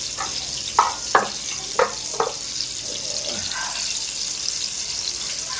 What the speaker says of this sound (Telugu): బాగా నూనెలో ఫ్రై అవ్వాలి